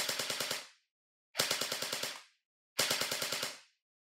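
Airsoft gun on full auto fires three rapid bursts of about six to eight snapping shots each, loud and close, with short pauses between bursts and no speech.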